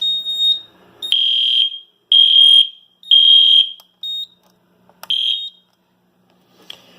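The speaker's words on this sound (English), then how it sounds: "And now I'm going to activate the detector." A FireShield fire alarm detector, activated during a fire system test, sounds in loud repeated electronic beeps of about half a second each, with short chirps and a quieter tail between them.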